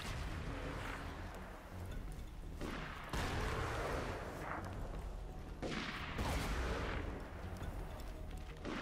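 Gunfire in Borderlands 2: a handful of loud, separate shots and booms burst out at irregular intervals over a rumbling game background, with no talking.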